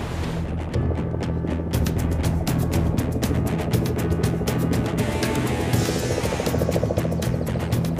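Helicopter of the Grand Canyon National Park rescue service flying, a steady loud rotor drone with rapid blade chop pulsing throughout, mixed with a broad rushing hum.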